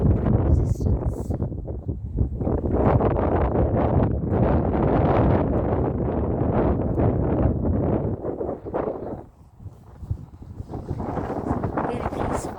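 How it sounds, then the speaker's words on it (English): Wind gusts steadily across a seaside marina at Crosby, Waterloo, Liverpool, a loud broadband rushing that buffets the microphone almost throughout, easing briefly near the end. "There is a coolness in that wind actually, but it's not freezing."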